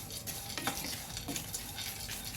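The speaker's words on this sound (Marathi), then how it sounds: "चांगलं मस्तपैकी तूप टाकून भाजायचं." Dry fruits roasting in ghee in a pan for sugar-free ladoos, stirred with a utensil: a soft continuous sizzle with light rhythmic scraping strokes, close and moderately quiet, with no talk.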